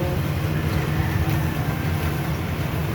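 A rice harvester works through a palay field, a steady droning engine rumble with a broad mechanical roar that holds constant and loud throughout.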